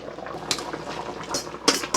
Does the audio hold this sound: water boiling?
yes